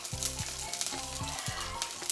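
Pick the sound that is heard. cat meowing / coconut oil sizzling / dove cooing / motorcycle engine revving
coconut oil sizzling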